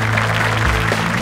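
An audience applauding at an innovation awards event, sustained loud clapping from many hands with some low background hum.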